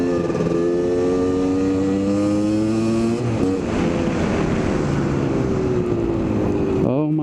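Kawasaki KDX250 two-stroke dirt bike ridden in third or fourth gear, its engine droning loud and close with steady pitch shifts as it revs up and eases off.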